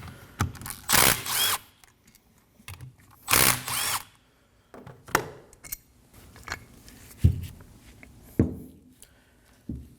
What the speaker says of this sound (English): So using the 17mm socket, go ahead and take those bolts off.